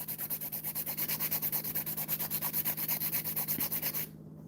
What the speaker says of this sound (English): if you're filing with your e-file